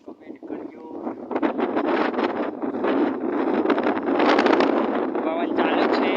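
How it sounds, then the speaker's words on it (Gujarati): A strong wind roars during heavy rain, loud, gusty and continuous, building after the first second and staying full, with a buffeting rush against the microphone. "પવન ચાલુ છે."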